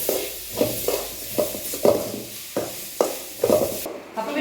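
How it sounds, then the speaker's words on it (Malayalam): Ginger garlic paste sautéed in a pan, heard as a steady soft sizzle broken by regular rhythmic stirring scrapes roughly every half second, close and moderately quiet. "ഇഞ്ചി വെളുത്തുള്ളി പേസ്റ്റാക്കി വെച്ചത് വഴറ്റി കൊടുക്കണം ആ പച്ച മാറി കിട്ടുന്നത് വരെ ഒന്ന് വഴറ്റി കൊടുക്കേണ്ടതുണ്ട്"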